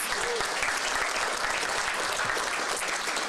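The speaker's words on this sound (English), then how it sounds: "let's give him a big round of applause" Audience applause at a press conference on a homeless count, a dense steady wash of many hands clapping that holds evenly at full strength from start to finish.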